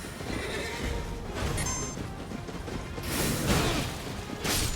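A horse whinnies over busy Elden Ring game noise, with rustling hoofbeats and whooshing effects rising and falling throughout.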